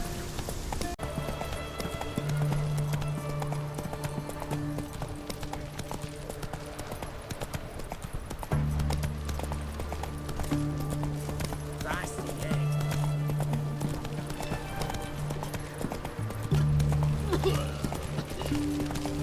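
Horse hooves clip-clop at a steady galloping rhythm in The Witcher 3, with an occasional whinny, a constant close beat under game music, and speech heard throughout.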